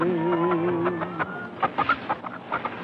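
Chickens cluck in a string of short, choppy bursts that grow more frequent toward the end, heard close by after a sustained tonal sound at the start.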